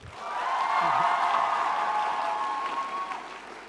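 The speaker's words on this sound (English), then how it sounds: "Round of applause for Jack, please." Audience applause at a TwitchCon panel, clapping rising quickly to a full, even patter and then tapering off over a few seconds.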